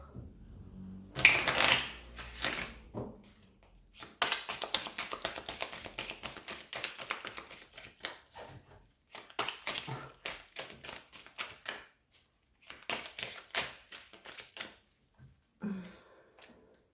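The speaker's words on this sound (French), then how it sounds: "Je vais juste prendre quelques cartes du tarot pour y voir plus clair." Tarot cards being handled at close range, with a burst of riffling shuffles followed by a long run of quick, dry taps and snaps as cards are laid down. Short gaps separate the clusters, and no voice is heard.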